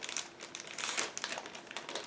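Plastic bag of spare parts from a Tamiya 1/48 F-14A Tomcat model kit being opened, with close, crisp crinkling in uneven bursts throughout.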